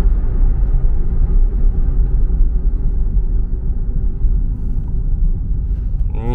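Nissan Leaf electric car accelerating hard toward 100 km/h, heard from inside as a steady loud low rumble of road and drivetrain noise that holds without pause throughout.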